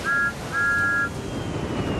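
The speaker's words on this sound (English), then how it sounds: "and with a toot of his whistle," A model Thomas toy train gives two shrill, steady whistle toots, a short one then a longer one. Low rumbling background continues after.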